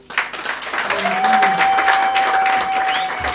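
A church congregation applauds in a steady wash of clapping that swells and holds, mixed with voices and a sustained musical tone.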